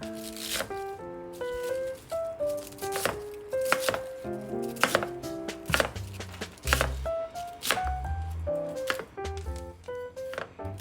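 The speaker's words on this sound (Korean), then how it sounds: "양배추를 큼직하게 깍둑 썰기를 해주세요." Knife chopping cabbage into large cubes on a cutting board for tteokbokki, a steady series of crisp, close chops under light background music, with no talking.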